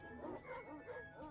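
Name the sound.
dog barking in the video game Stray Gods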